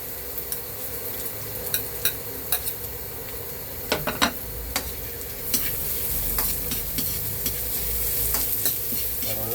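Garlic, onion and ginger sauté in a pan for escabeche bangus, a continuous close sizzle broken by regular clacks and scrapes of a spatula against the pan, with no talking.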